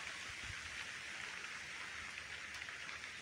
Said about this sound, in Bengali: ঘুম থেকে ওঠার পরে হঠাৎ করে বৃষ্টি শুরু হয়ে গেছে,